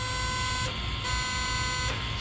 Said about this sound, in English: Slight buzzer sound gives you a warning